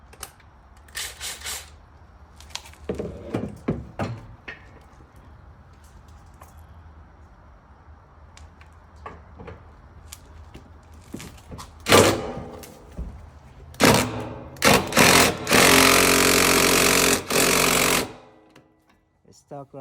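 A socket wrench on a long drive with a 13 socket works loose a semi truck's side fairing, making scattered clanks and thuds followed by loud, sustained bursts of grinding, rattling tool noise near the end, with some talk.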